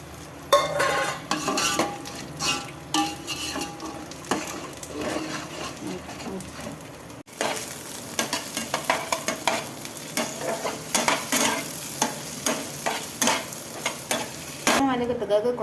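Okra sautés in a pan with a constant sizzle, punctuated by frequent scraping and tapping of a utensil stirring against the pan, close up.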